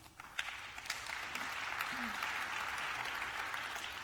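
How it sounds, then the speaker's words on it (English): A panel at a European internet governance plenary on cybersecurity norms is welcomed with audience applause, fairly faint and distant, steady and even throughout with a few sharper claps standing out. "welcome the panel with a round of applause"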